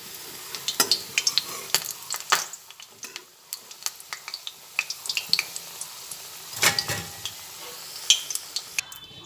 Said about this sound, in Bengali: কোপ্তাগুলো দুটো দিক ভাজা হয়ে গেছে, সেই জন্য এগুলোকে তেল ঝরিয়ে তুলে ফেলছি।